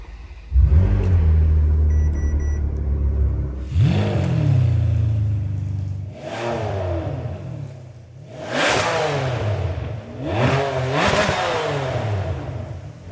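A Ferrari 599GTB's F140 V12 revs hard while driving, loud and close, with several rising surges and gear-change dips, each climbing to a shrill, raspy wail before falling back.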